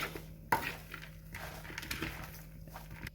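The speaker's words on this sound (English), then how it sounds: "Just give that a quick stir to mix it together" Broccoli salad with onion, cheese and bacon being stirred in a large bowl, giving soft scraping, clinking utensil-against-bowl sounds with a sharper knock early on, close and fairly quiet, with no talking.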